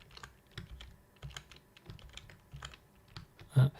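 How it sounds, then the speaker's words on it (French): Typing on a computer keyboard while using a writing assistant, irregular bursts of close key clicks and taps with short pauses between them, ending in one firmer thump. "J'ai pas trop décrit ce que je faisais avec le clavier."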